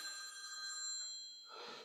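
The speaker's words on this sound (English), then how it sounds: "I really should switch my phone off." A mobile phone rings indoors with a steady electronic ringtone of bright sustained tones that fade into a short rustling noise near the end, with no talking.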